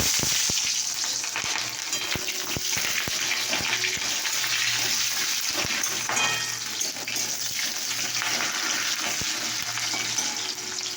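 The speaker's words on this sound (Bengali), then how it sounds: "তেল গরম হয়েছে, তেজপাতা দিয়ে দিলাম, আর দেখো পেঁয়াজ" Bay leaf and onion frying in hot oil, giving a loud, continuous close sizzle with scattered clicks and pops and occasional clinks of a spoon against the pan.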